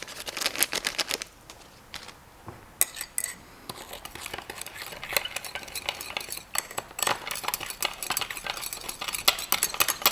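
Alum crystals are stirred in a container to dissolve them, giving repeated close scraping and clinking taps with an irregular rhythm and brief pauses between bursts.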